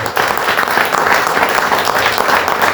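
Steady, sustained applause from a sizable crowd at a religious gathering, loud and continuous throughout with no pauses.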